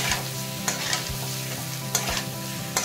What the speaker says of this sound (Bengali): দিয়ে আবারও আলুটাকে খুব ভালো করে ফ্রাই করে নিচ্ছি।